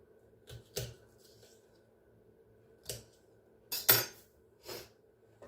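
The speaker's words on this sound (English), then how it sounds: "So I'm chopping up this red bell pepper." Several sharp knife chops through a red bell pepper on a cutting board, irregular and spaced apart, close by with quiet gaps between strikes.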